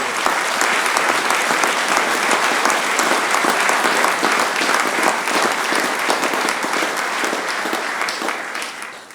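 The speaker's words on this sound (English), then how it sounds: "they need a round of applause for all that they have done and achieved" At a university graduation ceremony in Carmarthen, the audience applauds the staff with thick, sustained clapping that stays loud and even before tapering slightly at the end.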